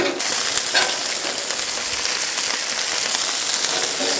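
Onions frying on a hot griddle for smash burgers, a steady, dense sizzle and crackle holding at an even level throughout, with no talk.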